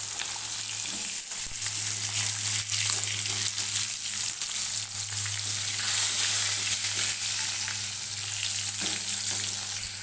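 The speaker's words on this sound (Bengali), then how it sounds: "বন্ধুরা আমার মাছগুলো একদম পুরো ভাজা হয়ে গেছে এবার আমি আস্তে আস্তে তুলে নেবো" Rohu fish pieces fry in oil in a wok with a loud, even hiss and crackle that carries on throughout, over a low steady hum and occasional soft clinks.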